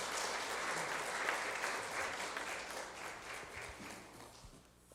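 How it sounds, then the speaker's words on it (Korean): A church congregation at a Sunday service claps in a broad wash of applause that slowly thins and fades away. "박수로 축하해 주시기 바랍니다"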